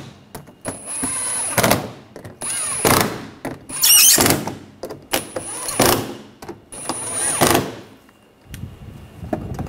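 A power drill driving and tightening screws, several short whirring bursts with high squeals and pauses between them, close by with workshop handling noises.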